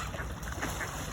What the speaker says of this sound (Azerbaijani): Ne gözəl ördəkdirlər.